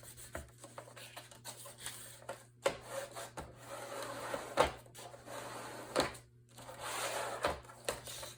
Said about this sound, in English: and then burnish this down